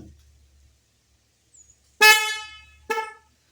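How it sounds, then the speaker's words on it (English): An air horn powered by a Ryobi battery gives two loud, brassy blasts, a longer one then a short one, after near silence broken by faint handling noise. "It's an air horn, and I've got this Ryobi battery."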